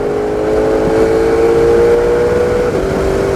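A supercar engine revs and accelerates hard on a race track, a loud, steady high-pitched drone that holds and rises slightly before easing near the end.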